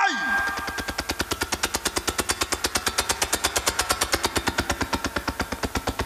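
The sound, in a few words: voice imitating airplane engine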